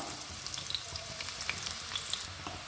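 Medium onion frying in a pan for a coconut chicken curry: a continuous crackling sizzle with scattered bright pops and spatters, fairly quiet and close, no talking.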